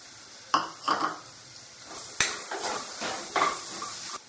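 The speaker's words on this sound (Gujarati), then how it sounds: "ડુંગળી સાતળી લઈશું." Onion sautéing in a pan for palak paneer with gram flour and turmeric, stirred with a spoon: a soft steady sizzle under repeated scraping strokes and clinks against the pan, close and moderately loud, no talking.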